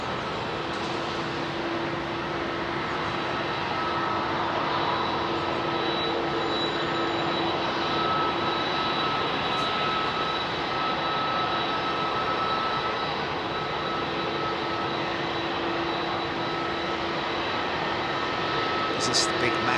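A jet airliner departs London Heathrow for Kuala Lumpur with a sustained, even engine roar and faint whining tones running throughout, with occasional talk beneath it.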